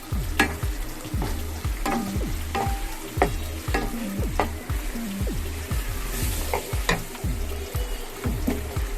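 A spoon steadily stirs chilli chicken in a frying pan, its rhythmic scraping strokes repeating over a continuous sizzle, with occasional sharp clinks against the pan.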